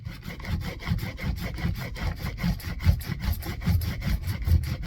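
A rotary cutter blade is being sharpened, a steady rhythmic rasping rub of metal drawn back and forth in quick even strokes, close and continuous throughout.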